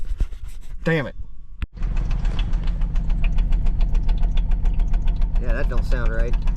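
Flood-damaged Ford Taurus engine cranks and then runs rough, a loud uneven idle with a steady knocking pulse, while people talk over it.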